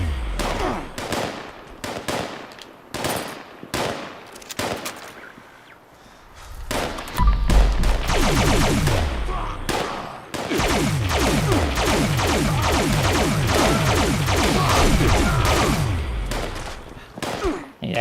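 Quad Automatic Alien Disintegrator fired in Fallout 76, loud energy-weapon bursts in rapid tap-fired volleys with brief pauses, then a longer sustained stretch of fast repeating shots near the end.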